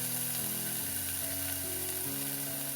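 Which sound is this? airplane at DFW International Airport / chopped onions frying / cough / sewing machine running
chopped onions frying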